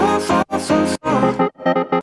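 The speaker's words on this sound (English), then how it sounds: "the response is this synth here" Bright, harmonically rich synth chords in a dance pop track play a short choppy response phrase, rhythmic stabs separated by brief gaps, loud and upfront with nothing else heard.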